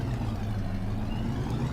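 An old truck's engine runs with a low, steady rumble and idle-like throb, moderately loud and continuous with no talk over it.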